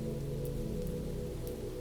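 Soft, steady rain falling on a surface, a faint even patter with a few slightly louder drops, heard alone without voices.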